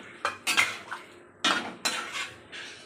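A metal utensil clinks and scrapes against a pot in a few sharp, separate knocks as tomatoes go into a home-style Bengali fish curry made with large fish.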